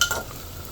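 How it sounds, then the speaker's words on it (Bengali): Onions frying until reddish in a pan for a mutton curry, a soft sizzle with a couple of brief stirring scrapes at the start and end, faint and close. "আমাদের পেঁয়াজ ভাজা হয়ে গেছে"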